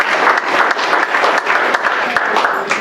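Warm audience applause at a Veterans Day 2021 ceremony honoring a Signal Corps veteran, with continuous full clapping from the crowd, close and fairly loud, steady from start to finish.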